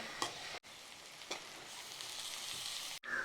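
Chopped green chillies sautéing in a pan, a soft steady sizzle with a couple of light stirring scrapes, fairly quiet and close, with no voices.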